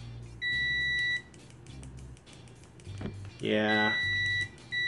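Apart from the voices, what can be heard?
multimeter continuity test beep, RICHMETERS 900A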